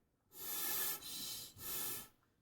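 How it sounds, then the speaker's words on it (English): Breathy air is blown through a trumpet in three close, hissing bursts with no pitched tone, quiet and near. "So I blow through the horn like that"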